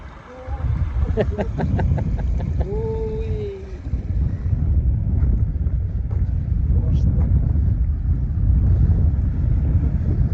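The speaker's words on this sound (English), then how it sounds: "Sorry about the wind, guys, I can't do nothing against that." Steady low rumbling buffet of wind hitting a microphone outdoors near Leadhills and Wanlockhead, Scotland, runs throughout, with a voice speaking over it early on.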